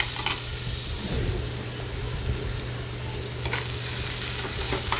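Onion for egg bhurji sautés in a pan with a continuous close sizzle, broken by a few scraping stirs of a spatula against the metal, and no talking.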